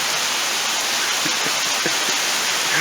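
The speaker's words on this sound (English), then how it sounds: "Oh yeah, it's totally raining again." Steady rain falling, a constant broadband hiss with a few scattered drips and taps standing out near the end.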